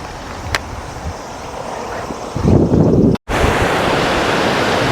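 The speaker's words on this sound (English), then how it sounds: "now I came to Shiraito Waterfalls" Steady roar of Shiraito Waterfalls in Japan, a broad rushing wash of falling water with wind buffeting the microphone, briefly cutting out near the middle.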